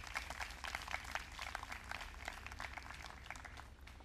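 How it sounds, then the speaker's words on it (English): Steady audience applause at a Grade 12 school induction ceremony, following the introduction of girls in the sports portfolio; dense clapping from a large crowd continues evenly throughout, fairly distant and moderate in level. "Let's give them a round of applause"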